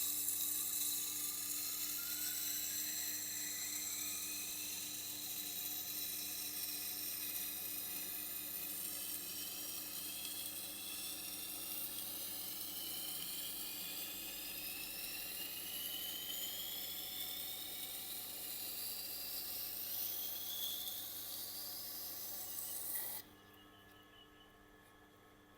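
Knives, including super thin chef's knives, ground on a Tormek sharpening machine: a steady, loud whirring grind with rising and falling whine runs continuously, then drops abruptly to a quieter motor hum near the end.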